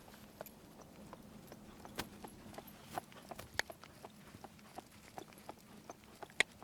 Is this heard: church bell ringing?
no